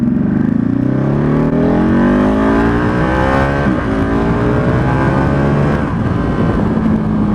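A motorcycle in wet riding mode revs its engine loudly and close by. The pitch sweeps up and down through several rising pulls, with no talking over it.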